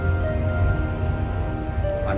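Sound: heavy rain in UAE

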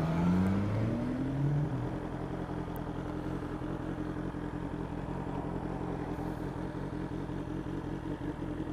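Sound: sports touring motorcycle on a wet lap of the Billown course

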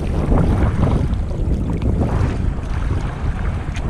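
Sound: wind while paddling a fishing kayak into it

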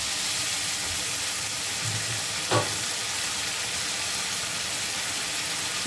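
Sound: mustard paste water added to frying fish curry

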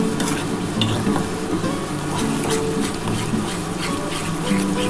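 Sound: stirring thor (banana stem) paste in a pan

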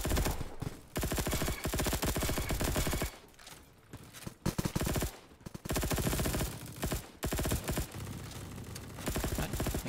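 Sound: gunfire in the video game Bad Business

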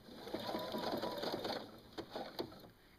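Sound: sewing machine stitching elastic onto a prefold diaper

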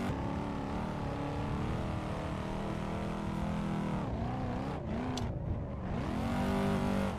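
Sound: car engine revving while drifting in racing simulator video game, Moza R5

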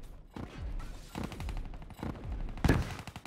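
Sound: XR-2 burst-fire gunfire in Black Ops 3 video game

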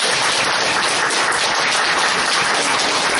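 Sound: applause welcoming minister Vulin

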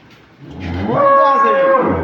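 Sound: cow mooing on a dairy farm

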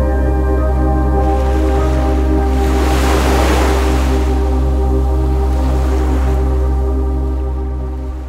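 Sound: ocean waves on Malvan beach

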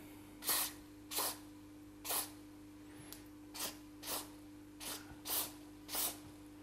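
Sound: CorrosionX spray sprayed into a quadcopter

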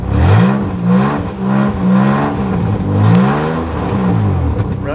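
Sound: car engine revving

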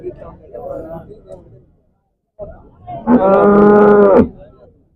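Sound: cows mooing at Chintamani cattle market

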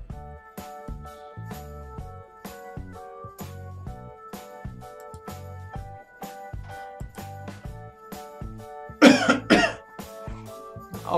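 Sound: person coughing, has a cold

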